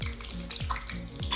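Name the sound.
cooking oil poured into a frying pan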